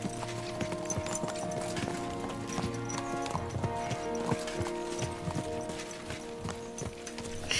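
Horses' hooves clip-clop in a steady rhythmic trot during riding in the video game Kingdom Come: Deliverance 2, near and continuous, with tonal game music underneath and no talking.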